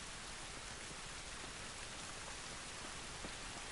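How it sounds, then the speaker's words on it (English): Steady, dense rainfall outdoors in the video game The Last of Us, a continuous even hiss of drops on surfaces with no voices over it. "It's raining."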